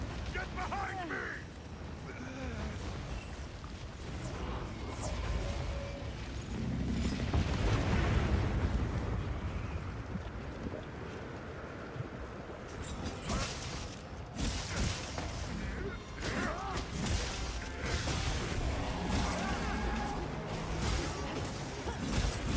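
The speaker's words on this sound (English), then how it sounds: "as soon as the explosion happens from that big attack, it's safe to step out from cover." A monster's big attack in Monster Hunter Wilds ends in a booming explosion with whooshing debris. The rumble swells loud amid ongoing game noise, while voices talk throughout.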